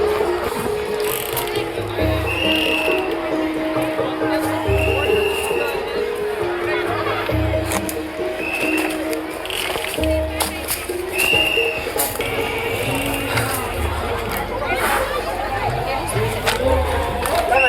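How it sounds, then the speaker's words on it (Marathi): A large crowd climbs steps toward caves, with a constant babble of many voices, shuffling footsteps and scattered taps, and nearby people talking over the hubbub. "हा बघा तुम्ही बघू शकता किती गर्दी इथं बघा."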